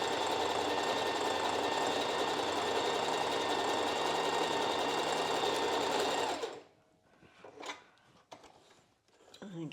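Sewing machine stitching a bra cup seam, a continuous close, loud motor whir for several seconds that stops abruptly, followed by quieter handling sounds.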